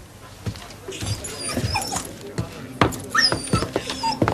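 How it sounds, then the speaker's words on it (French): A fox terrier whimpers and yips in short, repeated whines close by, interspersed with faint movement sounds in a quiet room. "Ils ont un chien. Un fox terrier, peut-être bien?"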